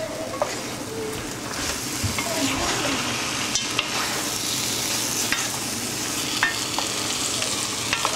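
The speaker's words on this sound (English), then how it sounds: "we want to just fry this off a little bit" Meat chops coated in chutney frying in a pan, with a continuous close sizzle and occasional stirring scrapes and light clicks throughout.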